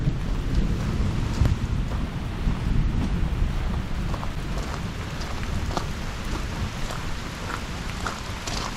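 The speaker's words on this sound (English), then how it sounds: "Oh yeah, too much rain." Heavy rain pours steadily in a Costa Rican rainforest near Heliconias Rainforest Lodge, a dense continuous roar of drops on foliage and surfaces, with occasional wind buffeting the microphone and no talking.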